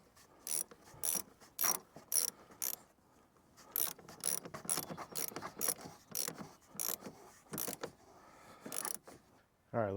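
Ratchet wrench snugging down the negative battery terminal on a Toyota 4Runner, a series of close, crisp clicking bursts in short repeated strokes, with no talking.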